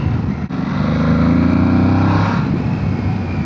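An Aprilia Tuareg 660 twin-cylinder motorcycle engine drones loud and close while riding, a steady pitch rising slightly mid-pass before easing off, with wind rush around it and no talk.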